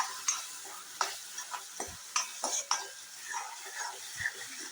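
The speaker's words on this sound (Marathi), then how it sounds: "चांगली मिक्स करून घ्यायचे आहे." Spoon stirring pea puree into a potato bhaji in a pan, giving several soft scraping and clinking strokes against the pan over a low sizzle.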